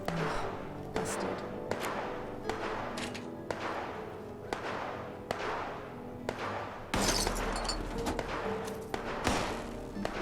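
Gunfire in the Fallout video game: a series of sharp, evenly spaced shots with a distant, echoing quality at moderate level, alone without speech, with a low rumble underneath in the latter part.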